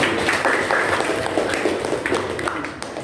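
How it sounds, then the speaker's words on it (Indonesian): A high school class claps together in a dense, continuous burst that gradually thins toward the end, with voices mixed in. "Sekali lagi tepuk tangan."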